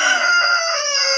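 A chicken crows loudly and close by on a backyard farm in winter. It is one sustained, harsh call with no talking over it.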